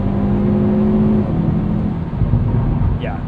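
A 2021 Hyundai Veloster N with dual-clutch transmission, driven at night in overboost mode, gives a loud, steady engine drone with shifting tones and a brief rising whine near the end, under some speech.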